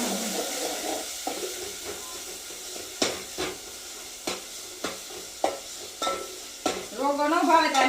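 Eggplant olo with tomato, onion and crushed garlic is tempered in a pan, a steady close sizzle and hiss broken by repeated stirring scrapes, with a louder burst of frying at the end.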